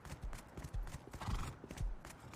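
Horse hooves clip-clopping steadily with occasional whinnies in the Rust survival video game, a continuous muffled trotting rhythm at moderate distance.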